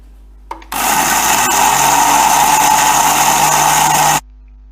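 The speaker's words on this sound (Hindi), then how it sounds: "तमाम मसाला मैंने डाल दिया है ग्राइंडर में और इसे पीस लूँगी मैं" An electric grinder runs steadily for about three and a half seconds, pulverising roasted fish masala spices with a loud, continuous high whir, then cuts off abruptly.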